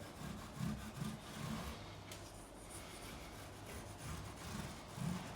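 Fine 0000 steel wool rubbed up and down the fret bevels along the side of a Fender American Pro Stratocaster neck, giving a close, steady scratchy rasp that pulses in short strokes throughout.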